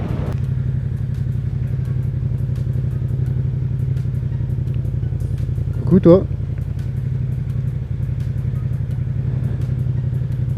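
Motorcycle engine drones steadily while riding over a bumpy road, a continuous low rumble with a brief louder clatter midway, and a voice speaks briefly over it.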